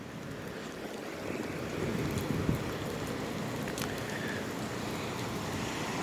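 Steady rain pours down outdoors during a storm in north Corpus Christi, a dense, even hiss with a few louder patters close by and no voices.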